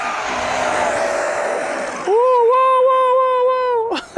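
Remote-control race cars speeding up during a quick race: a rushing, noisy whir gives way to a sustained high electric motor whine that holds steady before cutting off abruptly, with voices talking nearby.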